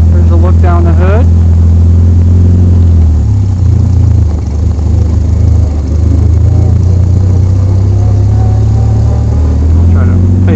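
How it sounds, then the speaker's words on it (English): A 1956 Plus 4 car's engine drones loudly and steadily while driving in first gear. The low rumble sits close and continuous, rising and falling slightly in pitch, with a voice talking briefly at the start and near the end. "So here's first gear, and there's a look down the hood."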